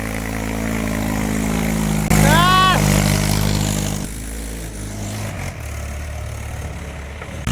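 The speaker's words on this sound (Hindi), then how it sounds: "वकीम ले आया अपना ट्रैक्टर" A tractor engine runs steadily at close range, its low droning hum continuous throughout, with a brief swooping tonal sound near the start. No one speaks over it.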